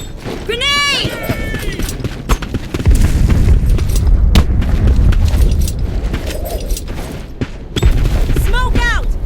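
A grenade detonates in the first-person shooter Black Squad during a demolition match, giving a loud, deep rumbling boom that swells near the start and rolls on for several seconds amid battle noise.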